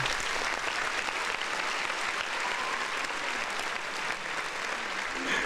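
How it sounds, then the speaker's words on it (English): A dense, even burst of crowd applause plays as a sound effect, steady clapping at moderate volume throughout with no break. "the time for you to fire off the applause sound effect."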